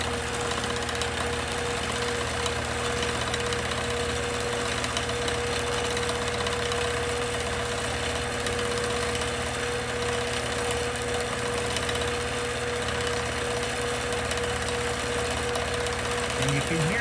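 A sewing machine runs for free-motion quilting with the stitch regulator switched off, giving a continuous, even mechanical hum and chatter that stays steady and fairly loud for the whole stretch.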